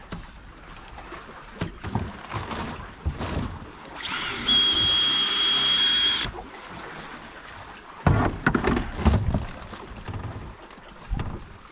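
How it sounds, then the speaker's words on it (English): A drill bores into wood at an island camp on a snowy day while it is being closed up for winter: a loud, steady, whirring burst of about two seconds, with scattered knocks and handling sounds before and after. "I'm gonna drill into that, put an eye hook or an eye bolt, and hang the de-icer from there"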